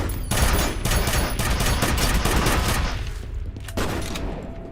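Sustained rapid gunfire from a gun in F.E.A.R., loud and dense bursts for several seconds, easing briefly near the end before another shot cluster.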